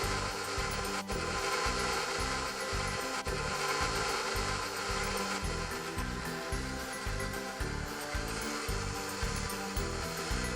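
An electric hand mixer runs steadily on low speed through chocolate chip muffin batter of vanilla and vegetable oil, a continuous close whir with a rhythmic pulsing texture lasting throughout, with no talking.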